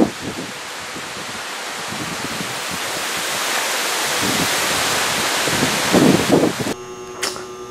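Gusty wind blows outdoors as a steady broad rushing roar close to the microphone, swelling slightly toward the end before a few brief bumps and handling noises.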